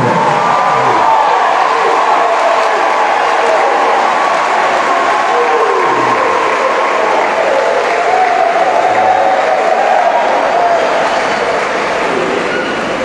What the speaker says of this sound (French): Est-ce qu'on peut applaudir pour toutes les religieuses?